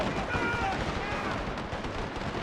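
Gatling guns fire continuously in a Total War game battle at a British fort during the Anglo-Zulu War, a dense, steady rattling roar with booming low rumble, loud and unbroken throughout.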